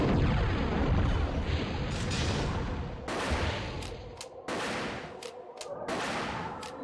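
Gunfire during a boss fight in the video game Shadow Tower: Abyss, dense rattling shots and blasts, then a series of separate sharp bangs spaced out over a rumbling, noisy background.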